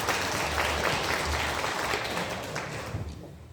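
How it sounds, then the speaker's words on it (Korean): A church congregation claps in praise to God, producing a full, steady wash of applause that slowly thins and fades toward the end. "하나님께 영광의 박수 올려드립니다."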